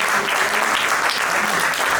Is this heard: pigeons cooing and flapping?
no